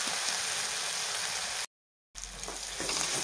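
Masala frying in oil for a spiced soybean curry makes a steady close sizzle, broken by a short moment of silence before the hiss returns.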